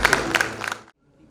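An audience at the National Reader's Conference live event claps to welcome a speaker on stage, a dense wash of applause that cuts off abruptly after under a second, leaving near silence.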